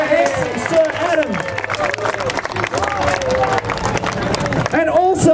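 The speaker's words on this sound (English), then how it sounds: "ladies and gentlemen, can we have a great big round of applause" An outdoor crowd at a medieval fair claps and cheers for a performer, with the applause running under a voice and general crowd noise.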